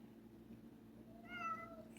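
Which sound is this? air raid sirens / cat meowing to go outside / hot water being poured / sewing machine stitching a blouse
cat meowing to go outside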